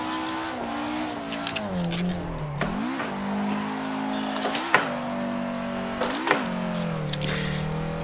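A car drifting in the Assetto Corsa racing game, its engine droning and rising and dipping with repeated revs while tyres squeal through the slide, loud and steady across the whole stretch.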